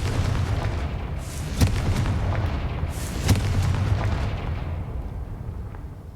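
An Expelliarmus spell cast in Hogwarts Legacy lands as two heavy, booming bursts a couple of seconds apart, each trailing into a rumbling roar.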